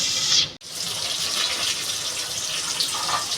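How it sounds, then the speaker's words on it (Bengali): Cooking water is poured off boiled elephant foot yam, a loud, steady rush of splashing liquid broken by a brief pause before pouring on without talk. "আমি জলটা ফেলে দেবো"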